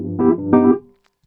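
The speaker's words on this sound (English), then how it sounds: "electric volume, this is the sound of the Wurlitzer itself" A Wurlitzer electric piano heard through its amplifier plays two rounded, bell-like chords in quick succession, the second held briefly before fading into silence.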